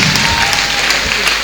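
Congregation at a prophetic healing service clapping loudly and continuously, a dense, sustained wash of applause with scattered sharper claps standing out.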